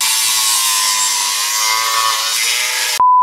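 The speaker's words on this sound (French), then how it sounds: "on commence tout de suite par la découpe, ça va faire du bruit" A power tool cuts through wood with a loud, continuous whine and rasp that holds for about three seconds before stopping abruptly.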